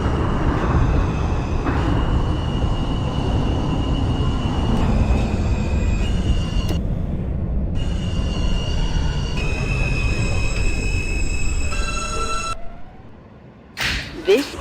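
An R subway train runs in a simulator, its loud steady rumble and wheel roar carrying tonal motor whines that shift in steps, then fading near the end before a couple of sharp clunks.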